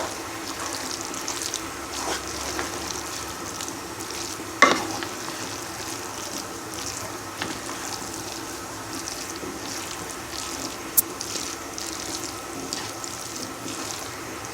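Borscht broth with tomato just added is stirred in a pot, giving a soft, steady simmering hiss with a sharp utensil clink near the middle and another faint tap later.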